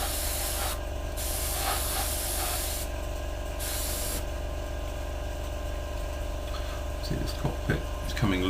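An airbrush sprays paint onto a Hasegawa 1/48 Harrier GR7 model kit in short hissing bursts with pauses between, over a steady compressor hum, with faint handling clicks near the end.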